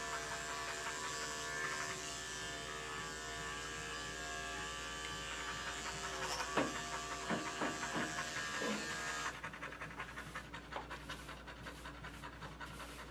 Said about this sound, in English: I'm using my Andis 5-speed, a 7-blade.